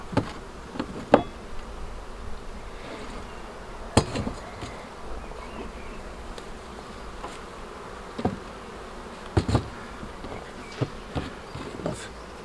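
Low insect buzzing with honeybees droning around a hive during a spring inspection, punctuated by scattered sharp taps and clicks, no voices.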